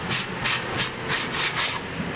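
A large wooden workpiece spinning on a lathe is sanded, giving a steady, soft rubbing hiss with gentle rhythmic swells, fairly quiet and without speech.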